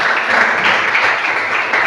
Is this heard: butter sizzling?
no